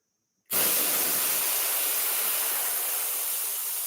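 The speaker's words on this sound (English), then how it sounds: "spray liberal amounts of rubber protectant in there" Rubber protectant sprays from an aerosol can into a deflated bicycle tire as one loud, steady hiss that starts abruptly after a brief silence and keeps going without a break.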